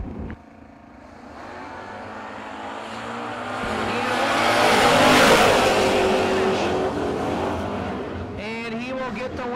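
A Camaro and a second car launch side by side in a no-box drag race, their engine roar building to a loud peak mid-run and then fading into the distance, with faint voices audible.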